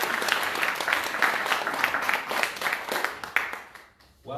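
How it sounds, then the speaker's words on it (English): An audience applauds steadily, a dense wash of clapping that tapers off near the end, followed by a brief start of sound. "please give a big round of applause"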